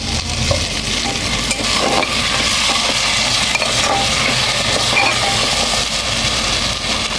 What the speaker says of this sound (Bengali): আমি যেহেতু সরিষার তেল খাই এটা আমি এখন সরিষার তেল দিয়ে দিচ্ছি